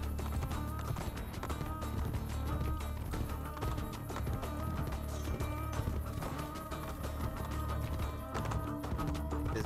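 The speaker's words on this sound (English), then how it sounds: "This is not my horse." A horse galloping in Assassin's Creed Brotherhood: rapid, continuous hoofbeats under dense game sound and music, steady and moderately loud throughout.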